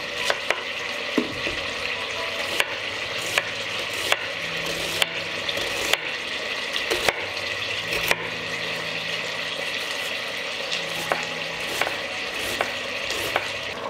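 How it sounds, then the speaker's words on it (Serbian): Schnitzels fry steadily in a pan with a continuous close sizzle, broken now and then by sharp clicks of a utensil knocking against the pan. "Šnicle ću pržiti po nekoliko minuta sa obe strane."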